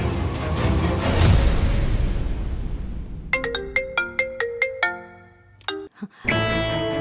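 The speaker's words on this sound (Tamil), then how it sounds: "மாயாக்கு போன் பண்ணுவோம்." A mobile phone ringtone plays a bright repeating melodic pattern of short chimed notes, loud and close, following a burst of dramatic background music in a Tamil TV serial scene.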